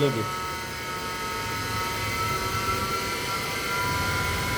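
A universal motor runs on 180 volts AC under load, giving a steady, loud whine and hum with bright high tones that holds evenly throughout.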